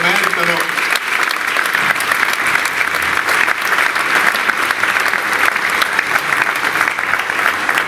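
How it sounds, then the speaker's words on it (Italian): Loud, sustained applause from an audience at an Italian charity music event honouring volunteers of a social cooperative, a thick unbroken roar of clapping that fills the entire stretch without pause. "Cominciamo subito con un applauso a tutti i volontari di Officine Sociali che se lo meritano"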